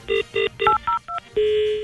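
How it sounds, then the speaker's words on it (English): Touch-tone telephone dialing a call, with several short beeping tones in quick succession followed by a longer steady ringing tone, heard clearly with no talk. "We're now ringing Heinz"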